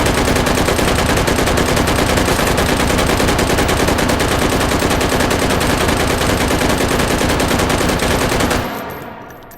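Rapid sustained automatic fire from a bipod-mounted gun in the VR shooting game Hot Dogs, Horseshoes and Hand Grenades, loud and dense for about nine seconds before cutting off into a brief fading tail.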